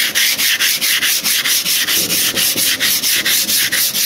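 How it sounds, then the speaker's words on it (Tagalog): Old paint being hand-sanded off a steel gate with 100-grit sandpaper, a steady run of close, loud rasping strokes repeating in a quick, even rhythm with no talking. "Liliyahin muna natin siya ng liha ng 100."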